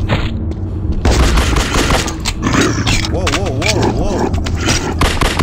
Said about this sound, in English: You ain't putting in no work with that shotgun.